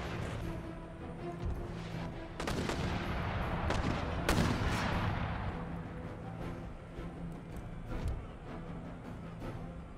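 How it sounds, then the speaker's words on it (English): Cannon fire from Empire: Total War artillery booms across a battlefield, several heavy shots spaced a second or two apart over a steady rumble of combat and distant musketry. "Artillery's opening up."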